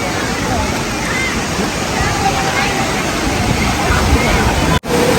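River water flowing steadily near a bridge at a temple, a dense, constant rush of water with faint voices murmuring beneath it.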